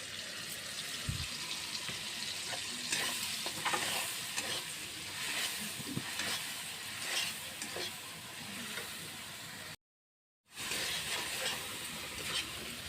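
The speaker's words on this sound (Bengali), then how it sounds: "এখন ভালোভাবে মশলাটা আমি কষিয়ে নেব।" Spice paste of turmeric, chilli, cumin and coriander powders mixed with water, stirred and fried in a pan for a vegetarian long-bean dish; a steady sizzle with scraping stirs throughout, broken by a brief gap near the end.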